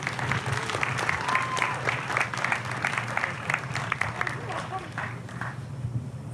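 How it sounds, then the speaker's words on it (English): An audience at a campus event applauds a speaker, sustained crowd clapping with some cheering and faint voices mixed beneath it. "everybody give him a round of applause"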